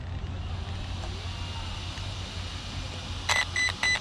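Short bursts of electronic beeps from an Arrma Outcast 4S V2 RC truck's speed controller during recalibration, three quick tone groups near the end after a stretch of low background rumble.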